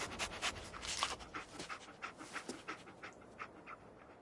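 Dogmeat, the canine companion in Fallout 4, sniffs and pants in quick, close, steady bursts, with no talk over the breathing.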